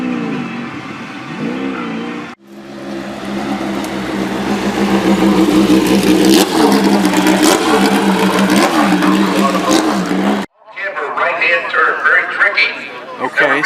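A small vintage Triumph race car laps the Mid-Ohio Sports Car Course at a vintage Grand Prix. Its engine revs climb and drop through gear changes, loud and close, with people talking before and after.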